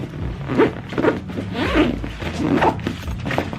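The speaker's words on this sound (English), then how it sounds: "And you zip it up." Zipper on a camera bag pulled closed in several quick, rasping strokes, close and fairly loud, with no talking over it.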